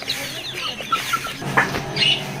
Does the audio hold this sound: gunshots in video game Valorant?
no